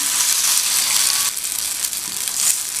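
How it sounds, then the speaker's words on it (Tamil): A bread slice toasting in ghee on a hot pan for a rava snack, giving off a steady hissing sizzle that eases slightly partway through and stays close and moderately loud, with no voices. "ரெடி பண்ணி வச்ச பிரெட் ஸ்லைஸை இது மேலே வச்சிடலாம்"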